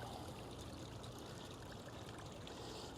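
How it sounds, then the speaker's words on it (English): A small waterfall in Old Town Conyers, its water falling and trickling in a steady, dense rush that fills the whole stretch without a break and with no voices. "There's some water falling from it"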